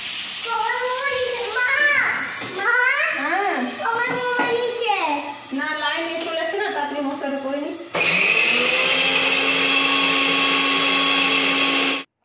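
An electric blender grinds spice paste for a home-cooked meal. It sets in loudly around eight seconds and runs as a steady roaring whir to the end. Before that someone talks with a lilting voice.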